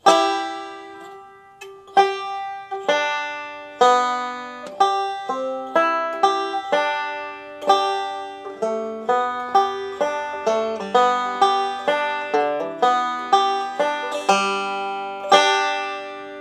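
Close, solo banjo picking of "Cripple Creek" rolls along in quick, ringing alternating-thumb notes with a pinch at the end, keeping a steady rhythm with a few brief breaks.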